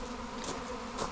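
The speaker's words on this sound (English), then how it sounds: "that's where I'm seeing most of the bees. I'm seeing a lot here though." A swarm of honeybees hums as a dense, steady drone at close range in a backyard, with no voices.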